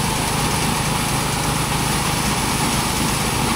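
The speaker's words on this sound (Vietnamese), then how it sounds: "Bây giờ ấy bắt đầu nổ máy đây" A combine harvester's engine runs at a steady, loud, buzzing idle close by in a rice field, with a constant rattling drone and no speech over it.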